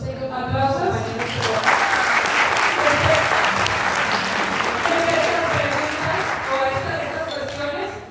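A conference audience bursts into applause: a sustained roar of many hands clapping, loud and close, with murmured voices beneath and a few sharper claps as it tapers off.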